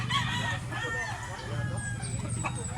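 A black-legged, medium-sized gamefowl rooster crows loudly and close by in rural Barili, Cebu, with clucking and other bird calls around it.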